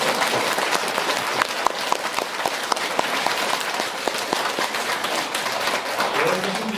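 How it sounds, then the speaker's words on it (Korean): A church congregation claps hands together at a monthly prayer meeting, a steady dense wash of applause running throughout with some voices underneath. "박수를 치면서 여러분"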